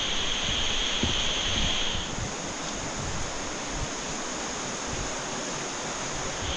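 Steady broadband rush of a waterfall on a mountain hiking trail, loud and continuous with a slightly stronger hiss in the first two seconds, no voices over it.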